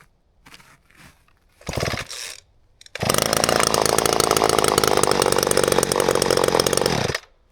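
Outdoors on a snowy day, a small-bar chainsaw used for firewood sputters in two short bursts, then roars loud and close for about four seconds at full throttle before cutting off.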